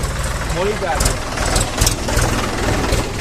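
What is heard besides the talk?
tractor engine carrying rice seedlings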